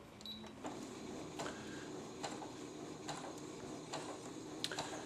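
Brother NV 10 sewing machine running a straight stitch under its start-stop button, a quiet steady mechanical whir with faint rhythmic needle ticks and occasional louder clicks throughout.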